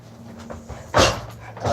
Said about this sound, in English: just let me let the dog in, just because I know that's kind of noisy